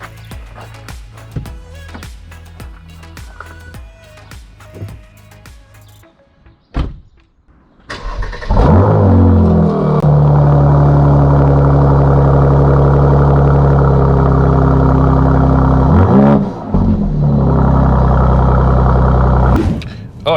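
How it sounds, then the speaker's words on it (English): A 400hp Mercedes C43 AMG in Sport Plus mode starts up after a quieter stretch with some clicks and a door thump, then settles into a loud, deep idle that rumbles continuously close by, dipping briefly once. "Then we can start the car. But let's set the camera outside the car so you can really hear it."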